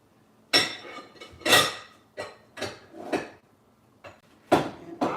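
Dishes and a mixing bowl clatter and clink in a series of sharp, close knocks, with quiet pauses between them.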